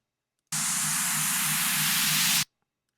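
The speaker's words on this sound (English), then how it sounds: "last but not least, I need an effect sweep type of thing" A synthesized sweep effect for an EDM track in Cubase Pro 8 sounds as a single burst of bright white-noise hiss about two seconds long, starting and stopping abruptly against silence.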